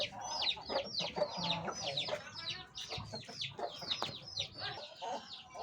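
Nearby chickens cluck and chatter continuously in quick, repeated bursts, with several birds overlapping at close range.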